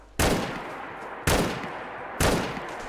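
Three loud gunshots from the video game Fallout 4 are spaced about a second apart, each a sharp close blast with a short decaying tail. There is no talk.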